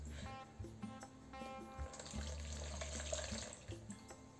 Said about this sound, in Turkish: Bunun üzerine 300 mililitre su koyacağız.